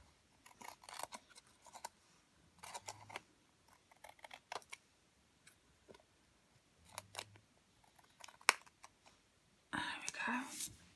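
Scissors snip through card in a handmade black and white butterfly card project, several short separate cuts at close range, quiet and crisp with pauses between.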